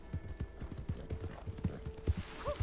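Horse hooves clip-clop in Red Dead Redemption in a quick, steady rhythm close by, with a horse briefly whinnying near the end.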